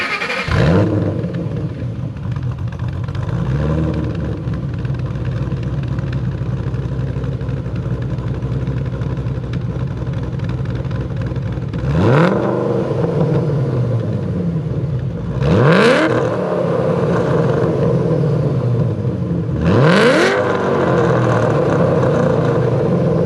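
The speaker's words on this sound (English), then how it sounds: "So my 2010 has blower cams in it, so it's going to sound extra awesome anyways at idle," A 2010 Shelby GT500 with blower cams and an aftermarket exhaust idles loudly and close with a lumpy, throbbing rumble, broken by three sharp throttle blips that rise and fall near the end.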